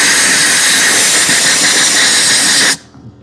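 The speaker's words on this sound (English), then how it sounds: "I hope y'all can hear me over that stupid air compressor back there." A loud, close, steady hiss of blasting compressed air roars for under three seconds, then cuts off sharply, leaving a faint low background.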